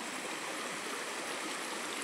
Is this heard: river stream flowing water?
yes